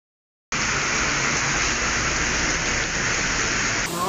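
A sudden violent hailstorm pounds Rome, Italy, a dense, steady roar of ice and water hitting surfaces that starts abruptly and holds at full loudness, close and unbroken, with no voices.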